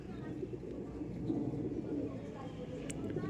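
Pigeons in a loft coo softly and continuously, layered with low murmuring calls from several birds, steady and moderately close amid a busy, noisy background.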